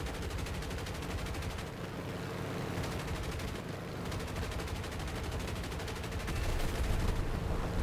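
Sustained bursts of .50 caliber aircraft machine guns in the War Thunder video game over Malta, loud rapid rattling fire that continues almost unbroken for eight seconds with brief dips between bursts.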